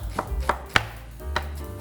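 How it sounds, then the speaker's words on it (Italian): An onion being chopped with a knife on a board, four or five distinct sharp chops at an uneven pace, close and fairly loud, with no talking. "facciamo un bel trito di cipolla"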